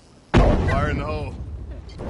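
A grenade goes off in a video game with a sudden loud blast and a rumbling decay, as a voice calls out over the tail of the explosion.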